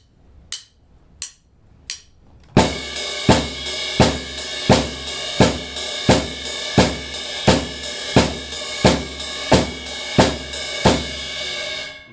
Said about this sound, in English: at the chorus, you're always going to be playing quarter notes on the snare,